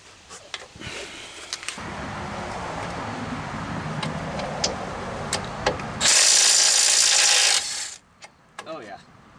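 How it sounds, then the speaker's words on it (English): An angle impact wrench works on the 21mm brake caliper bracket bolts of a 2014 Ford F-150, giving a sustained mechanical whir and then a loud, harsh two-second burst, with clanks and scattered knocks around it. "Oh yeah, the nice angle impact."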